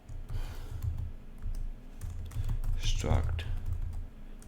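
Fingers type on a computer keyboard while coding a C struct typedef, producing clusters of quick, light key clicks with a busier burst near the end, mixed under a man's nearby speech.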